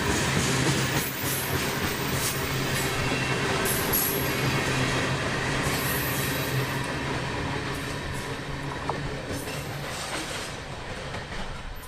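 Long freight train of ethanol tank cars passing on Canadian Pacific track near Chicago, a steady loud rumble of rolling wheels with rhythmic clacking and occasional squeal, continuous throughout.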